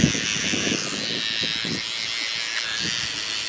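Nevadent kids electric toothbrush running steadily, a close high-pitched buzz held throughout with faint vocal murmurs beneath it.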